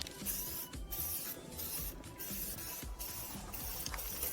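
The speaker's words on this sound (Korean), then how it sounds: "뿌려보겠습니다." Zinc coating aerosol hissing steadily onto a car muffler, a continuous close spray with slight rhythmic dips as the can is moved or pulsed, no talking.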